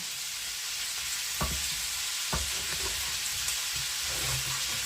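Cabbage fries in rendered pork fat (salo) in a pan, giving a steady broadband sizzle with a few sharp knocks and scrapes as it is stirred, close and moderately loud, with no one talking.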